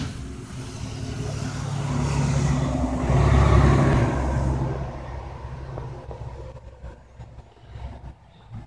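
A New Flyer city bus drives past, its engine rumble swelling to a loud peak near the middle and then fading as it moves away, with low road noise lingering at the end.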